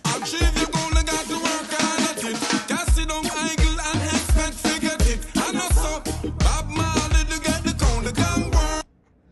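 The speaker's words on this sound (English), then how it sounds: "Now the verses get much more busier, a lot of drum rolls and stuff." Busy full-band reggae music with a steady drum groove and frequent quick fills and rolls, loud and continuous until it cuts off near the end.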